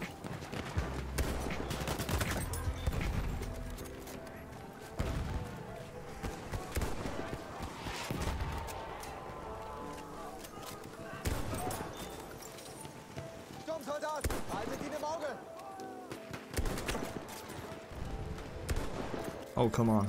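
Gunfire in a Battlefield 1 multiplayer match: repeated rifle shots and scattered bursts, near and distant, over a dense battlefield din with galloping hooves, while a player talks throughout.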